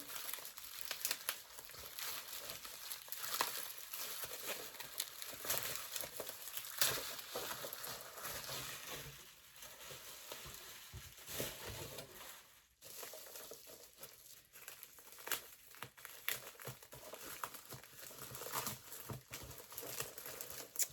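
Packaging on a box of 72 Woomer colored pencils is opened with steady crinkling and rustling of wrap and cardboard. The sound is close and continuous for about twenty seconds, with small tears and handling noises and a brief pause midway.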